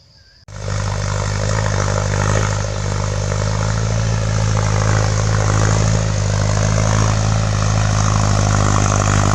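An old tractor ploughs a rubber plantation, its engine starting abruptly into a loud, steady, droning chug with a strong low hum that continues unchanged to the end.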